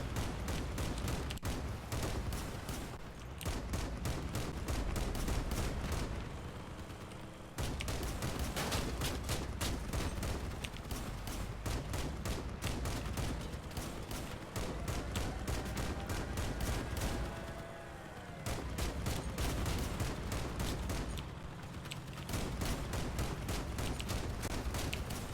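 Heavy cannon fire from a vehicle in Crossout, repeated booming shots amid constant engine and combat noise, steady and loud across the whole stretch with brief lulls.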